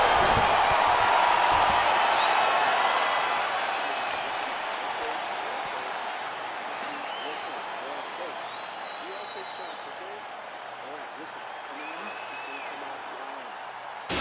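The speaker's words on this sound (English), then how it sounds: "So the crowd voicing its appreciation after that round." A virtual arena crowd in EA Sports UFC 4 applauds and cheers after a round, a loud wash of clapping and voices that slowly fades to a softer murmur, while a commentator talks over it.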